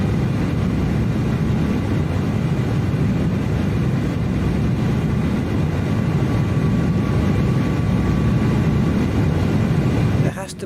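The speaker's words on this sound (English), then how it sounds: "This plane is freaking loud." Loud, steady Boeing 737-600 jet engine roar inside Microsoft Flight Simulator, a broad continuous rumble that holds unchanged for the whole stretch before dipping right at the end.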